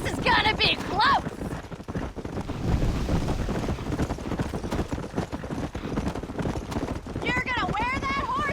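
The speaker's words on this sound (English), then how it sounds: "You're gonna wear that horse out." Horse hooves clip-clop at a gallop during a close horse race in the Western video game Red Dead Redemption, with steady, loud hoofbeats under wind noise and a game soundtrack, while people talk over it.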